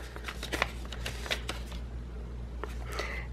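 Plastic packaging from a sequin mix swap parcel crinkles and rustles in quick, close bursts over a steady low hum.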